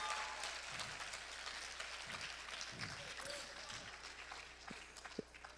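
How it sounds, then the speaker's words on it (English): Applause from an audience at a student presentation night, fairly faint and steady through the whole stretch, with a few louder claps near the end. "let's have another round of applause for our second group of the night"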